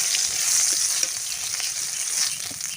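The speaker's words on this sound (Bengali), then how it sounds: "এই তেলে আলুগুলো ভেজে নেব।" Potatoes frying in hot oil, a bright steady sizzle with light stirring clicks, close and continuous with no voices.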